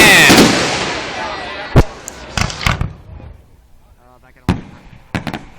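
Fireworks explode at the Nowra Show, opening with a large booming burst and crackle followed by a string of sharp, loud bangs spaced irregularly across the outdoor night, with faint crowd noise between.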